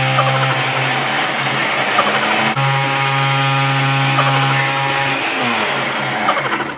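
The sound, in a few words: blender crushing Oreo cookies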